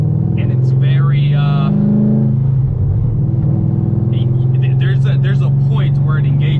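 C6 Corvette with an upgraded clutch driving and accelerating, a loud deep engine drone that rises in pitch as it revs, dips briefly around a gear change, then climbs again, with someone talking over it.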